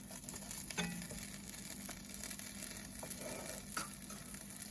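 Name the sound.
grilled cheese roll-ups sizzling in hot skillet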